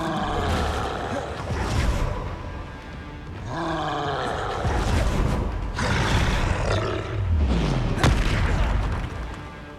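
A Confringo fire spell explodes in Hogwarts Legacy amid other combat effects, sounding as deep roaring booms and crackling blasts that fill the whole stretch loudly, with brief shouted voices mixed into the fray.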